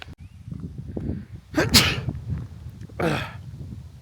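A sharp, explosive sneeze, followed a moment later by a second, weaker one, with faint low background noise.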